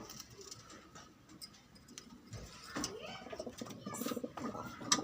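Pigeons in a loft give soft, low cooing calls with scattered light ticking and fluttering, moderately close and fairly quiet throughout.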